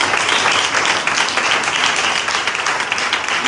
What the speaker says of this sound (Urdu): آئیے زوردار تالیاں بجائیں گے.